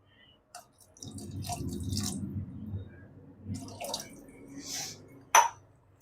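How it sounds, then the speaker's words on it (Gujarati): Water added to a pressure cooker of winter muthiya shaak, a short close splashing pour followed by scattered drips and a sharp clink near the end. "તો થોડી હજુ પાણી જોઈશે, પાણી લઈ લઉં."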